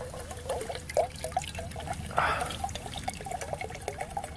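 Water poured into a pot at a snowy blizzard campsite, a soft, close trickle and splash running through the clip with a brief heavier gush in the middle.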